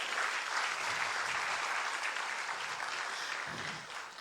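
Church congregation applauding at a worship service, a steady dense wash of clapping that holds for several seconds and thins slightly near the end.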